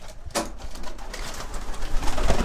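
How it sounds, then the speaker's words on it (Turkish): Homing pigeons in a loft coo softly and repeatedly, with low rumbling calls close by over a busy background of wing and perch noise. "Burada çok antika kuşlar var."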